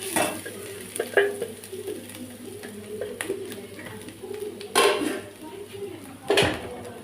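Grated coconut frying and being stirred in a pan, a steady close sizzle with repeated scraping and knocking of a spoon against the pan, a few louder clatters, and occasional faint talk.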